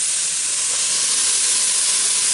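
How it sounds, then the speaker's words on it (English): Quinoa boiling in a pot for a large batch of vegetarian chili, heard as a loud, steady hiss of steam and bubbling that stays even and unbroken for a couple of seconds. "The quinoa is boiling, so I'm going to turn it down to medium heat."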